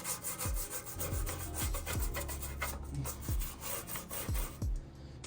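A plain bristle brush scrubs a 1987 Buick Regal Turbo Limited in a steady run of close, rhythmic rasping strokes, about two per second, with no talk.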